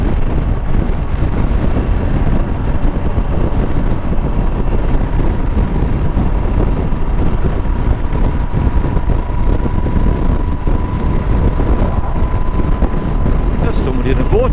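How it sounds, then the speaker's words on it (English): A steady low rumble of a boat moving across water with wind buffeting, continuous throughout, with a faint hum underneath. "There's somebody in a boat."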